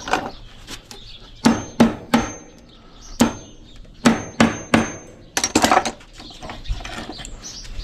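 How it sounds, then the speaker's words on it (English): Sharp metal hammer strikes ring out in irregular bursts while scrapping parts, some single, some in quick pairs and clusters, close and clear over a quiet background with a few smaller clinks. "the hammer's right there, and I'm using a pair of pliers"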